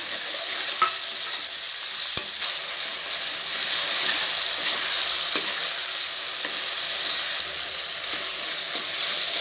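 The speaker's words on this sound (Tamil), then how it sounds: "தக்காளி வதங்கட்டும்." Tomatoes sautéing in a pan with ginger and garlic for a country chicken curry, a steady close sizzle and hiss with occasional scrapes and knocks of a spoon stirring, no talk.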